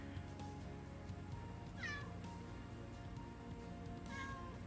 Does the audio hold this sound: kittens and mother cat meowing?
yes